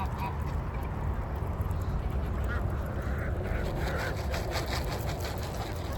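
Ducks quack amid a flock of around 70 chickens at feeding time, the calls scattered and moderately close over a steady, noisy farmyard background.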